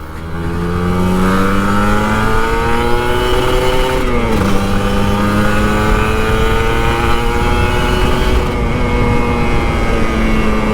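A Kawasaki Ninja RR 150 motorcycle accelerates hard from close by, its engine note climbing steadily in pitch through the gears with a brief dip at a shift, loud and continuous.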